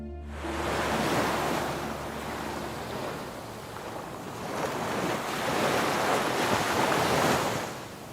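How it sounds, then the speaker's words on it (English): Sea waves crashing against the rock beneath a lighthouse, a broad continuous roar of surf swelling and easing in slow surges, with wind buffeting the microphone at the start and no voices. "Everything was absolutely quiet except for the constant thrashing of sea waves towards the rock."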